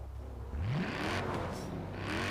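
Mercedes-Benz C63 in Forza Horizon 4, its engine swelling from a low idle into a rising rev that holds as a steady, loud growl with a whooshing airy layer on top.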